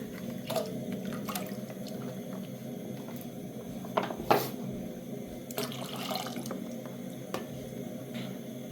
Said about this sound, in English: I add milk.